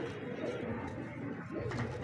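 Female golden pigeon cooing close by, soft low rolling coos repeated over a couple of seconds with a faint background murmur.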